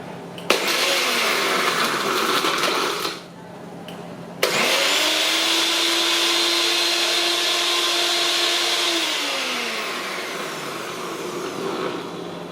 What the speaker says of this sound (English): So we've got our magic bullet